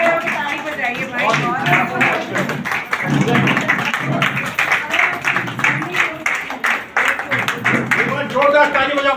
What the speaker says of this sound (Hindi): सब लोग खड़े होकर ताली बजाइए भाई।